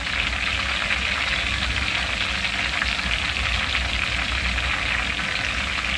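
Spices fry lightly in a pan while Schezwan sauce is being made, giving a steady, even sizzle and crackle that holds without a break, moderately loud and close, with no voices.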